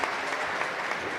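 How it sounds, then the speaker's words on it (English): Steady applause fills a startup conference stage, a short burst of dense clapping from the audience with no voices standing out. "big applause for Irina."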